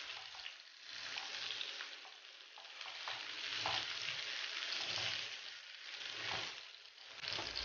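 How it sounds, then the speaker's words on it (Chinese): Cured duck and taro being stir-fried together in a wok, a continuous close sizzle broken by rhythmic tossing and scraping strokes, with no speech. "也要把芋头倒进去，接着一起翻炒"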